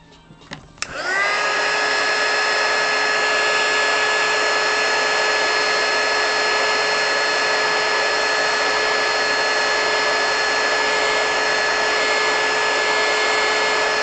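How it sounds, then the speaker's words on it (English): A heat gun clicks on and blows hot air onto a sketch, giving a loud, steady close whine and hiss that starts abruptly and continues unbroken. "if you use a heat gun, you don't want to keep it on continuously for like over 10 minutes"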